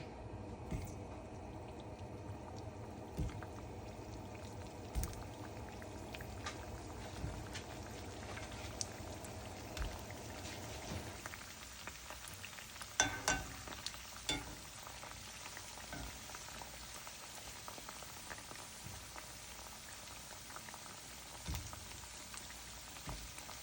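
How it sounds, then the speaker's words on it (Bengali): Pieces of ready-made roti deep-frying one at a time in hot oil, a continuous soft bubbling crackle with scattered pops and a few sharper spatters midway, quiet and without talk. "আমি এই আইটেমটা ডুবো তেলে ভাজবো"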